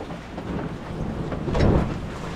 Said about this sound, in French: Ça pleut! Ah mais c'est juste un grain, hein, ça va passer.